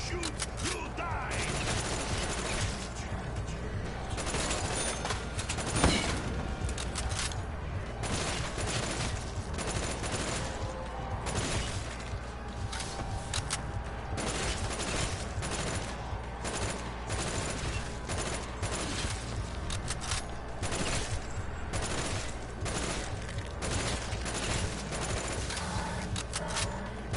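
Sustained gunfire in Black Ops 3, set in the ruined city of Gorod Krovi: rapid bursts of automatic fire and repeated shots crackle almost nonstop alongside mechanical clatter, loud and close.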